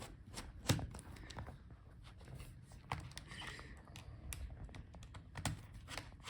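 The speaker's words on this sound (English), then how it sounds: "So now let's disconnect our screen assembly from the Palmrest keyboard. So unscrew the hinges." Small screws being backed out of the hinges of an Acer Nitro 5 AN515-57 laptop during a teardown, heard as scattered close clicks, taps and light scraping spread through the stretch, with no talking.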